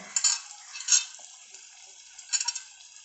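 Spoon stirring fried masala in a pan after cumin, chilli and turmeric powders go in, for a Bengali rui fish dish; a few scraping strokes over a soft sizzle, fairly quiet, with no talking.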